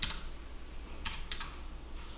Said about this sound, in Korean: 인서트 키를 바로 눌러주세요.